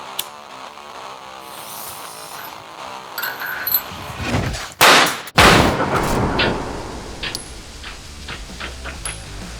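A single sharp, loud blast of a homemade powder cannon firing a ball bearing cuts through a steady background hum, followed by a brief rumbling decay and faint clatter.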